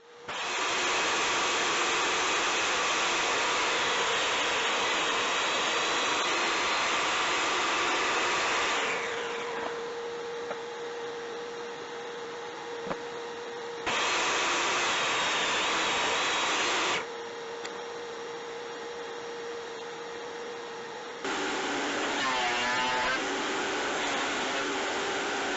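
A power saw cuts wood pieces to size for a stepping stool, giving a loud, steady broadband whine that runs in several long bursts separated by brief quieter pauses where a lower idling hum remains.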